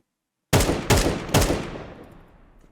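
Three sharp gunshots fired in quick succession in Counter-Strike, loud and close, each with a bright crack and a reverberant tail fading out after the last shot.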